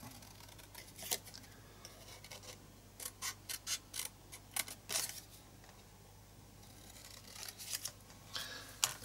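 Scissors cut out paper pieces for a Momigami collage art journal page, giving a series of quiet, close snips in short bursts over a faint steady background hum.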